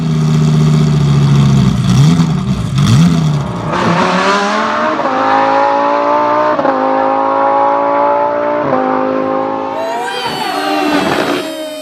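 A car speeds along with a skier riding on its roof at full velocity; the loud, steady engine drone holds throughout, its pitch dipping and climbing in shifts and rising again near the end, with no voices.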